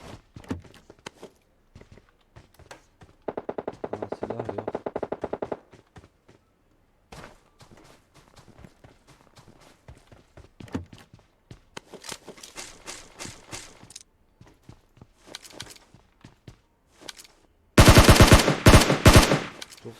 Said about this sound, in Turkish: silah niye böyle sekiyor ya?